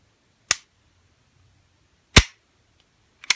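Trigger pull and reset of an EAA Polymer Compact pistol: three sharp, close, dry mechanical clicks spaced irregularly, with silence between them and no talk.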